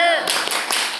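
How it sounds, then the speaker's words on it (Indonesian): A classroom of students claps together in a rhythmic spirit clap, a few sharp group claps in quick succession following a brief voice at the start. "coba tepuk semangat dulu deh supaya lebih semangat untuk mengerjakan soalnya ya"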